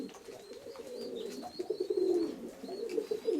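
Pigeons coo softly in a loft with a pair of young cream-coloured birds, low throaty warbling calls repeating close by against quiet background noise, with no voices.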